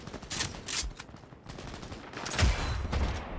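Gunfire in the video game Cyberpunk 2077: a fusillade of sharp shots and bursts with heavy low thumps, loud and dense in a chaotic combat mix.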